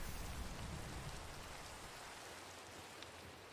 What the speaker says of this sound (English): it's just always raining in skyblocks. So it doesn't surprise me that we're getting rain all the time.